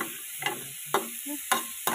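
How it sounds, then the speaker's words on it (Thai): Ground pork stir-fries in a pan for Thai holy basil pad kra pao, a steady sizzle broken by four sharp scrapes of a spatula spaced about half a second apart, close and clear with no voices. "หมูลงไปผัดหมูผัดให้สุกๆนะคะให้มันหมูออกมาด้วย"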